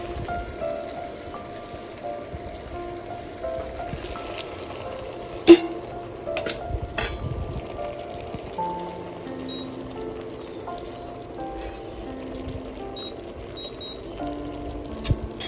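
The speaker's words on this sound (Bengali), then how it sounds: "সেই গরম জলটা একটু দিয়ে দিচ্ছি অল্প অল্প করে" Hot water is added a little at a time to a kadai holding a simmering tangra fish curry with eggplant and potato, a soft continuous hissing patter with an occasional clink of utensils, no talking.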